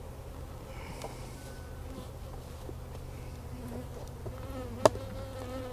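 Honeybees buzz around a beehive stacked with supers, a continuous low droning hum from many insects, fairly faint and steady, with one brief sharp tap partway through.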